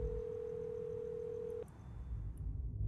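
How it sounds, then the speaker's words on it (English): A phone rings in the video game Hello Neighbor as one steady electronic tone that holds for about a second and a half, then cuts off, leaving low background rumble. "What was that ringing? Oh, it's his phone."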